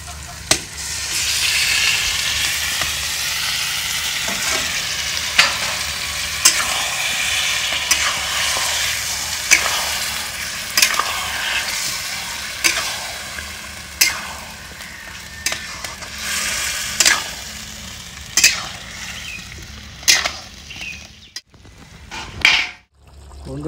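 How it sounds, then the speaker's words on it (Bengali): Marinated chicken fries in a pan with a loud, continuous sizzle that slowly tapers. Regular sharp clicks and scrapes of a spatula against the pan come every second or two, close up with no talk. "ম্যারিনেশন করে চিকেনটা ঢেলে দেবো।"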